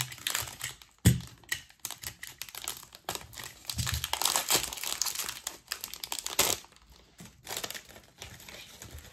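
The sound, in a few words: opening a Pokémon card booster pack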